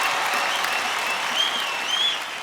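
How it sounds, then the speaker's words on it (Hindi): A television studio audience on a comedy show applauds for Delhi Police, a dense steady burst of clapping with a few faint voices, fading slightly at the end. "हमारे दोस्तों के लिए जोरदार तालियां हो जाए"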